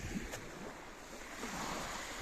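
Sea waves wash onto the beach at Łukęcin in a soft, continuous surf, with wind buffeting the microphone over the steady hiss of water and no talk.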